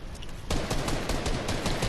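Dense gunfire in Fortnite bursts in after a quieter half-second, a rapid, loud stream of overlapping shots with no talking.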